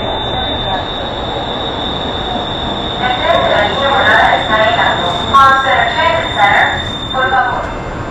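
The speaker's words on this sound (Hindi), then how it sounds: "ट्रेन में सवार हो गए" Houston Metro train arriving at a station, with a continuous rumble and high, shrill wheel squeals that grow louder midway, and voices faintly in the background.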